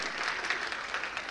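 An audience at a state pensioners' committee convention claps together, a brief burst of dense applause that is fairly faint and heard alone.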